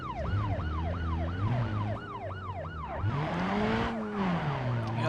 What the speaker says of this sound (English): I just heard a siren in the neighborhood.